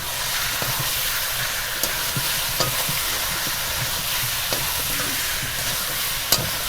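Chicken pieces sizzling and frying in a pan with chili powder while being stirred for Bengali chicken kosha, a steady loud hiss with occasional scraping clicks of the spoon throughout.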